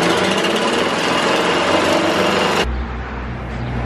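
Power tool cutting a wheel arch shape from a stencil while building a camper van frame, a loud high-pitched buzzing whine that cuts off sharply, leaving a lower hum.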